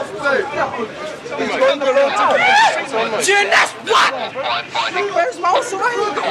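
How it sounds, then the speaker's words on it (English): Crowd shouting and milling outdoors as police arrest three ringleaders and order people away, a loud, continuous babble of overlapping voices with yells and whoops close by. "Now with 3 ringleaders in custody, the crowd disperse."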